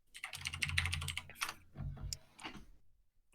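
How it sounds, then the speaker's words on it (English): Someone types on a computer keyboard in rapid bursts of close, crisp key clicks, with a short pause in the middle and trailing off near the end; no one speaks. "I think this guy's typing"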